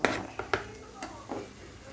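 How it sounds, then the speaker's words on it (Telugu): A spatula clinks and scrapes against a pan while chopped beans and carrots are stir-fried over high flame for veg fried rice, giving a few soft, irregular knocks over a faint, quiet sizzle. "ఫ్రైడ్ రైస్లు ఎప్పుడు హై ఫ్లేమ్లో చేసుకోవాలి. ఇవి బాగా ఫ్రై చేయాలి."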